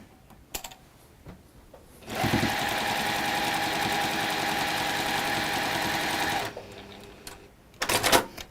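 A sewing machine stitches diagonally across fabric squares in one fast, steady mechanical run of about four seconds, close by, with quieter clicks and handling before and after.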